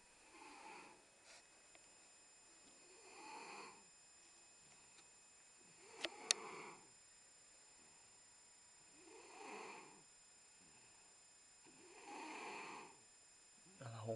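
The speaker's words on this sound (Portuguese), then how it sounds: "Ela ronca demais." A woman asleep on a sofa snores in slow, regular cycles, about five breathy rasping snores spaced a few seconds apart, quiet and close, with a couple of faint clicks in between.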